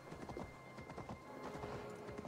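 A horse gallops in Assassin's Creed Valhalla, its hooves pounding in a quick, steady drumming rhythm over soft game ambience, close and continuous for a couple of seconds.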